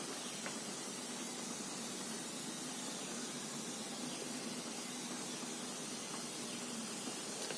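Steady, continuous steam hissing from the tube of a pressure cooker, a close, even rush of noise with no voices.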